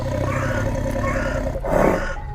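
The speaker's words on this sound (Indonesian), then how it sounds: "dari kejauhan, suara auman binatang bergema" Tiger roaring in a horror tale, a deep, rumbling growl that swells then rises into a louder burst near the end, heard without speech.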